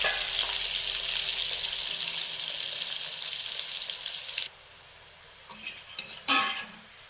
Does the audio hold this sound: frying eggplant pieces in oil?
yes